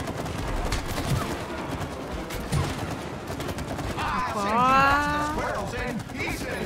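Rapid bursts of gunfire in the video game It Takes Two crackle under agitated talking, with a drawn-out tonal cry rising near the end.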